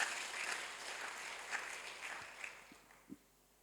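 Church congregation at a Thursday service clapping, faint and distant, a soft wash of applause with a few sharper individual claps standing out, fading toward the end.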